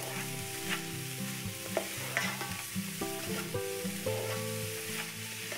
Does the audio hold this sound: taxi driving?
no